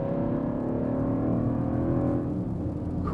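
A Land Rover Defender V8 with a Miltech exhaust revs hard in a lower gear, a loud, steady, rumbling engine roar that holds strong and close throughout with no one speaking.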